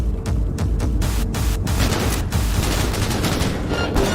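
Heavy, continuous gunfire rattles through a firefight in Cyberpunk 2077, loud overlapping automatic bursts with occasional sharper cracks that keep going without letup.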